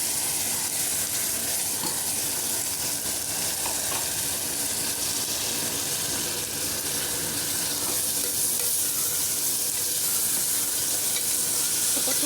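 Chopped tomatoes fry in a pan for chikkudukaya curry, giving a steady, loud sizzle throughout with occasional scraping stirs, and no talking.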